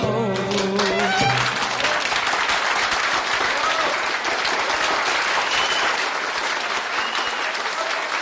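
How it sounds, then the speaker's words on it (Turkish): An audience at a Turkish fasıl music performance applauds the orchestra, dense steady clapping filling the room from the start as the last musical notes fade in the first second. "bu güzel fasıl için orkestramızı alkışlıyoruz"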